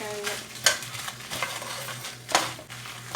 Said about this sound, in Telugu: కొంచెం టీ స్పూన్ నూనె వేసుకొని మిరపకాయలు వేయించుకోవాలి.